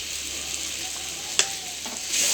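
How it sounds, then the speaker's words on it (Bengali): Cumin and coriander powder fry in hot oil for a mackerel dish, with a steady loud sizzle throughout and a few sharp stirring scrapes and clinks against the pan, close and without talk. "ভালো করে মিশিয়ে নেব মশলাটা ভালো করে কষে গেছে"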